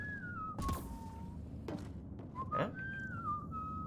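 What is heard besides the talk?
character Liam whistling in Mass Effect Andromeda video game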